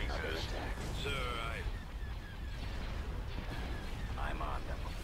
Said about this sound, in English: Firing turbo lasers